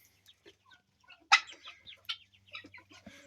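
Homestead chickens give soft, scattered clucks and brief chirps nearby, with one sharper louder call midway and a faint low hum underneath.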